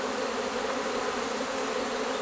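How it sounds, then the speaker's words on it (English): A dense cloud of honeybees hovers in the air around an open hive during spring beekeeping, giving a steady, close, continuous drone with no voices. "There's so many bees in the air right now."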